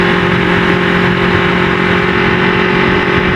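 An Aprilia RSV4 RF motorcycle engine on a road, a loud steady droning hum with a constant pitch, heard alone without any talking.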